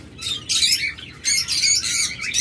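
Many caged birds, including lovebirds, budgerigars, cockatiels and doves, chirp and squawk together in a shop, a dense, loud, close chorus of shrill overlapping calls in bursts with no talk.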